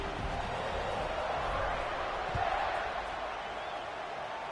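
A stadium crowd in the football video game NCAA 26, during an Auburn versus Kansas matchup, roars steadily as a dense, constant wash of cheering that holds at an even loudness throughout.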